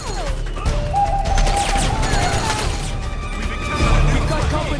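Battle noise from Metal Gear Solid 4, dense continuous gunfire and crashing impacts in a busy firefight, with shouted voices in the mix.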